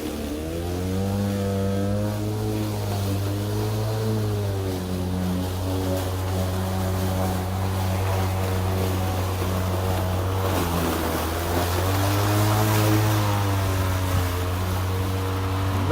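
An EGO battery-powered lawn mower cuts through high grass with a steady electric motor whine and blade hum that rises and falls slightly in pitch as the load changes, running continuously up close without any talking.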